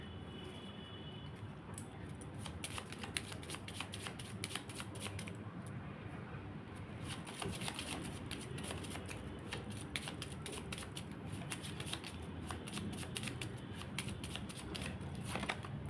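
Tarot cards shuffled and drawn in a steady run of soft, papery riffles and flicks, close and continuous with small sharp snaps throughout, no talking.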